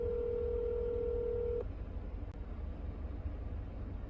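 A phone call goes unanswered: a steady electronic ringback tone sounds once, close and clear, then cuts off after about a second and a half, leaving a low background hiss and rumble.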